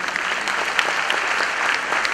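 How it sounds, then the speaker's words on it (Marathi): An audience at a music album launch event claps in a sustained, dense round of applause, steady and fairly loud from start to finish. "जरा जोरदार टाळ्या"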